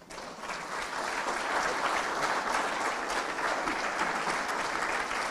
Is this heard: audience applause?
yes